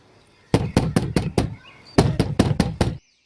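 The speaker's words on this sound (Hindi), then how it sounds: "थोड़ी देर बाद दरवाजा खटखटाने की आवाज आती है।" Two bursts of loud, close knocking on a door: five sharp raps, a short pause, then five more in an even rhythm.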